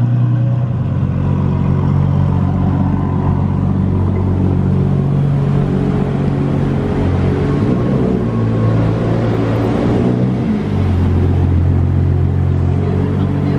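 A red Ferrari F12 Mansory Stallone Spider rumbles loudly on a Cannes street in summer, its engine note steady and deep with a brief swell in revs partway through.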